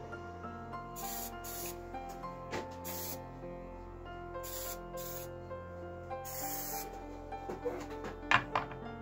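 Several short bursts of hissing spray paint in a spray shop, repeated at uneven intervals over a steady low hum, with a few clunks near the end.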